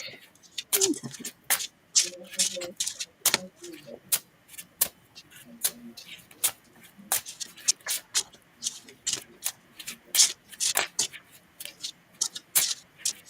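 Rapid crisp riffling and snapping of playing cards being shuffled, coming in repeated bursts of clicks close to the listener.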